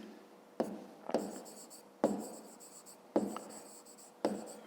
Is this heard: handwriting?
yes